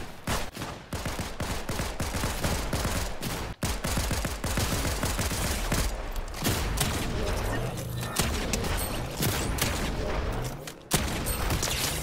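Dense Fortnite gunfire rattles almost continuously, with rapid bursts and fusillades of shots, close and loud, while a voice talks over the game action.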